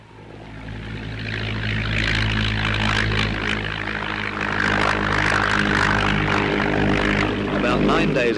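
A propeller plane flies over Antarctica on a 1950s polar supply run, its engines producing a steady, loud droning hum that builds slightly and holds throughout.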